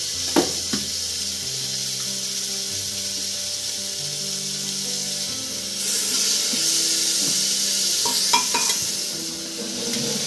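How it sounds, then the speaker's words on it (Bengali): Chopped chicken stir-frying in a pan for chicken soup, a continuous loud sizzle with scraping stirs and tonal clinks from utensils, the hiss rising midway as the pieces go in, no speech. "ভালো করে নাড়াচাড়া করে নিয়ে আবার একবার এবার দিয়ে দেবো কুচি কুচি করে রাখা চিকেনগুলো।"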